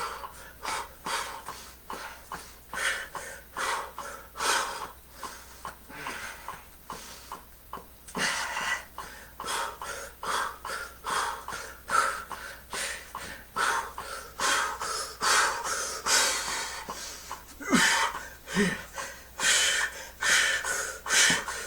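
Heavy, rhythmic breathing and sharp snorting exhales during fast-paced mountain climber exercises in a home workout, loud and close, with steady repeated breaths throughout and no talking.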